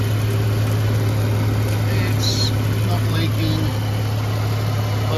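A Ford FG Falcon car engine runs with a steady low, droning hum and constant broadband noise throughout, close and fairly loud.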